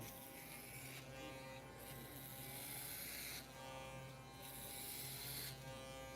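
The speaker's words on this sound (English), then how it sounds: "So you notice with this shaver" An electric shaver or clipper hums with a continuous close buzzing drone, shifting slightly in pitch and tone as it moves across hair, with no voices over it.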